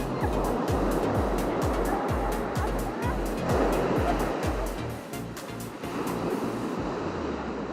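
Sea waves wash onto the pebbly beach at Tropea in a steady roaring surf, close and loud, with rhythmic low thumps and wind buffeting the microphone.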